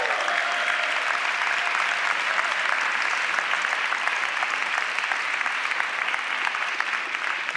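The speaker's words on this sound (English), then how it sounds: "Please give a round of applause to Miguel." Large audience at a live conference closing event in Mindvalley University gives Miguel a loud, sustained round of applause, an unbroken even roar of many hands clapping from start to finish.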